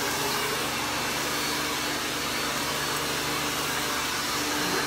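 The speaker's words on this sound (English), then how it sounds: "Always, always, always want to put the dryer facing down on the brush." A hair dryer blows steadily on a 3-inch round brush, giving a loud, continuous broadband whoosh with a low motor hum that holds unchanged from start to finish, with no voices.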